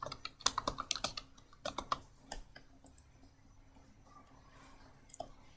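Computer keyboard clattering as code is typed, with quick bursts of sharp keystrokes early on, then sparser taps and a long quiet stretch before a final few clicks.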